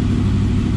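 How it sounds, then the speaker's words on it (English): A 2003 Honda VFR800 VTEC motorcycle engine after cam chain tensioner replacement, a brief, loud, close, steady mid-pitched rumble without talk. "Sounds lovely, revs up nicely, no hesitation whatsoever"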